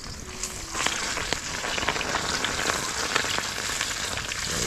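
Bitter gourd (ampalaya) slices frying in hot oil, a steady close sizzle with scattered crackles and pops running continuously, no voices.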